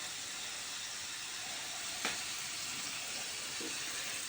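Potatoes frying in oil, a steady broadband sizzle and hiss running close and continuous throughout, with a brief sharper crackle midway and no talking.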